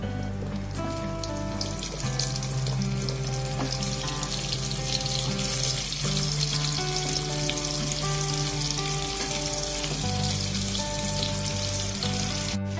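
Potatoes are added to a pan and fry in a steady hiss and sizzle, set against a sustained tonal hum in the background.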